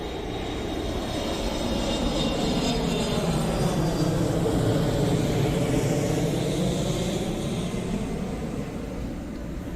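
A recorded airplane passing, played back in stereo: a steady broad engine roar with a thin high whine, swelling slightly in the middle and sustained throughout without talk.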